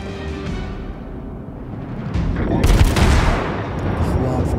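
Naval guns fire in the video game World of Warships, a loud booming salvo rising into a dense roar midway and lingering with rumbling echoes over continuous background noise.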